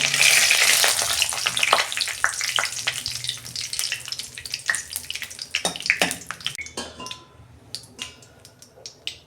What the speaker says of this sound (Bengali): প্রথমে আমি 3টে তেজপাতা দিচ্ছি